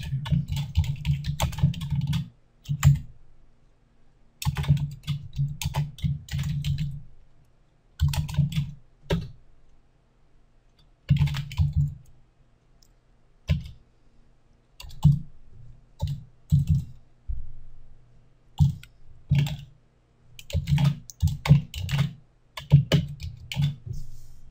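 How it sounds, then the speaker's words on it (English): Typing on a computer keyboard in bursts of rapid key clicks separated by pauses, close and clear, with no talk over it. "I type something here."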